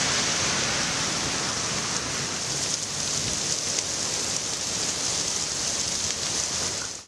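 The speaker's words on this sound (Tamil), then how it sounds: "தியாகராய நகர், சைதாப்பேட்டை, கிண்டி உள்ளிட்ட பகுதிகளிலும் மழை கொட்டியது" Heavy rain pours down over Chennai during a deep depression, a dense, steady hiss of water that stays loud and unbroken throughout, with no voices.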